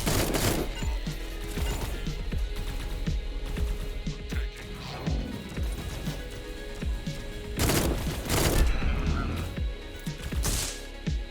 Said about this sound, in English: so there's a rocket launcher in this game